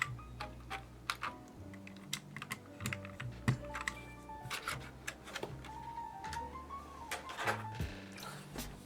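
Typing on a GMMK mechanical keyboard fitted with silver speed switches and white keycaps, a close, irregular run of crisp clacks and taps with a few louder bottom-outs, no voices.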